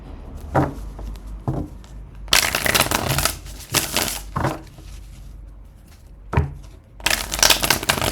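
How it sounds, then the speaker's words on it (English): Tarot cards shuffled by hand in bursts of brisk riffling and soft flicks, several separate shuffles with short quiet gaps between them, close and clear with no talking. "I'm just going to shuffle a few more times and we'll get started."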